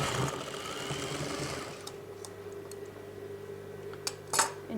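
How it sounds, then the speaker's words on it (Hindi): A sewing machine runs fast and steady, stitching an overlapped back neck strip onto a velvet shrug jacket, a close mechanical whir that slows slightly and ends with a few light clicks and a brief clatter. "इसको इसके ऊपर हम ओवरलैप करके फिर सिल देंगे"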